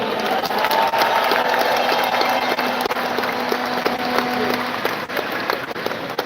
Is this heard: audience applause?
yes